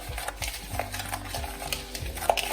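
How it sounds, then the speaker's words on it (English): Spoon stirring a sugar and oil mermaid body scrub with mica powder, a close, quiet gritty scraping in uneven repeated strokes against the bowl. "So we're just gonna stir this, getting rid of any clumps."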